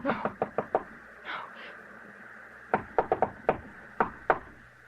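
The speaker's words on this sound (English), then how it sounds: "Someone knocked, Edith." A series of sharp knocks on a wooden door in an old-time radio mystery drama, a rapid burst of six raps, then a pause, then two more quick groups of knocks, loud and close.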